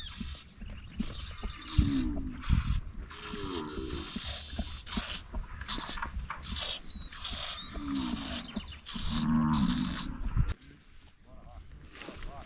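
Cattle low and moo several times in deep drawn-out calls while being driven, mixed with clattering and rustling movement nearby and occasional shouts of "Vaca, vai!"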